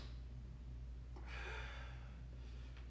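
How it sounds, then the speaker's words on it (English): A deep breath during a stick mobility exercise, a steady airy inhale and exhale swelling in the middle, close and alone over a low background hum. "Full inhale, full exhale."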